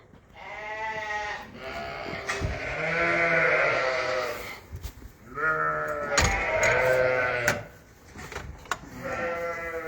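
A ewe in labour bleats in long, strained, wavering cries, close and loud, repeated several times with brief pauses during lambing.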